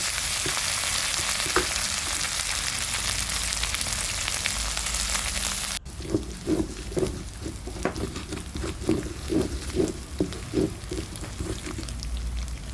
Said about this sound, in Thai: ทอดกระทะร้อนน้ำมันร้อนนะคะจะเอาพริกแกงลงไปผัดให้หอมก่อนนะคะ